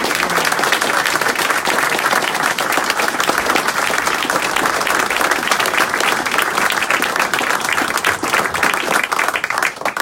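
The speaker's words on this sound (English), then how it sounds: "So a big round of applause for them." Dense, loud applause fills a community library hub as a crowd claps steadily for world champions. The clapping keeps a constant intensity from start to finish.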